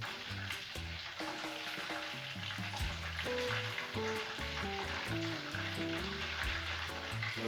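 Battered fish fries in a pan of hot oil with a dense, continuous crackling sizzle, heard close up under background music with a bouncing melody. No one speaks.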